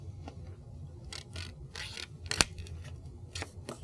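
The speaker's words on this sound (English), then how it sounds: "Go ahead and fold the paper along that dotted line." Paper is folded along a dotted line, making soft, close crinkles and crisp rustling bursts with one sharper crease snap near the middle, quiet and with no voices.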